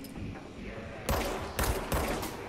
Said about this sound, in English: Yeah, I'm expecting a lot of gunfire here.